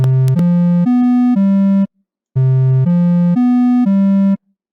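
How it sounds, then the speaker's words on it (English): Synthesized melody of four joined, tonal, steady notes played once, then a short gap, then the same four-note phrase played again, clean and moderately loud with nothing else. "And then we can bounce the melody, which sounds like this."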